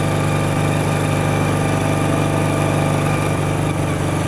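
Steady, loud drone of a 1984 Honda CB400 cafe racer motorcycle engine under way on the road, a constant mid-pitched hum with even vibration and no talk.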